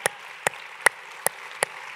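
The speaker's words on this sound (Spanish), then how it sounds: "denle un fuerte aplauso al Señor" Five sharp, close hand claps ring out at a steady, evenly spaced pace during a Spanish-language church service on the resurrection, with quiet room tone between them.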